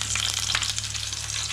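Two chopped green chilies dropped into a ladle of hot oil, crackling with a dense, steady sizzle up close, alone and continuous.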